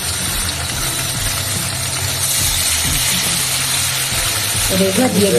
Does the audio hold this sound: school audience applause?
no